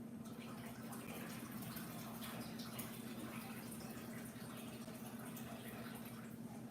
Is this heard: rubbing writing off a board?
no